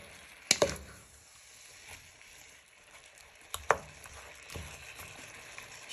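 Chicken and red peppers are stirred in a pan under a soft, steady sizzle, with a few sharp scrapes and clacks of the utensil against the pan.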